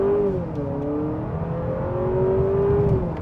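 A 2025 Honda Accord Hybrid Touring accelerating from inside the cabin, its engine drone rising and shifting steadily in pitch as a continuous, moderately loud whir with no talk.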